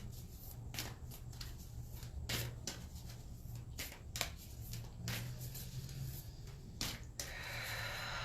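Tarot cards being shuffled and drawn by hand, a string of soft papery riffles and flicks at an irregular pace, close and quiet with no talking.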